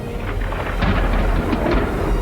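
A lightning strike and thunder from the video game Dragon Quest Dai form a continuous heavy rumbling roar, loud and close, like a storm crackling without a break.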